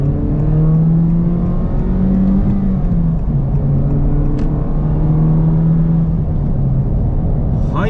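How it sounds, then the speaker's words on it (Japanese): A Honda Civic Type R accelerates to 100 km/h. From inside the cabin, a loud, steady engine drone rises in pitch through the gears and carries on continuously without talk. "じゃあ一気に100キロまで加速していきます。"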